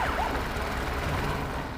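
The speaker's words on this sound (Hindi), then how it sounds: "ये जो सायरन अभी आपने सुना" A siren wails steadily over a loud, noisy background rumble, its pitch sweeping briefly near the start before holding level.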